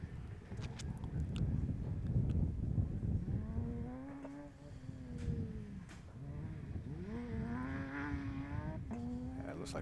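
A 6-cylinder BMW rally car engine thrashed hard at a shakedown event, with loud sustained revving and rising, falling pitch sweeps as it accelerates and drifts, close and continuous throughout.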